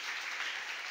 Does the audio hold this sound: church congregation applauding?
yes